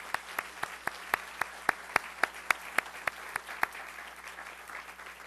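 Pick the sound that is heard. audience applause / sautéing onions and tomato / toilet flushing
audience applause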